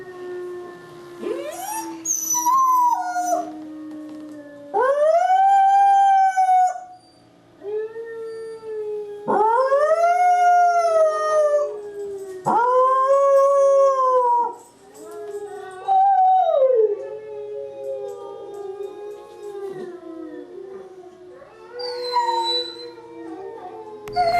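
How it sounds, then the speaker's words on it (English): A pack of dogs howls together in long, rising and wavering calls that overlap and layer at close range, pausing briefly between bursts and ending with a few whimpering yips. "then the whole pack rallies and again stimulates her to howl"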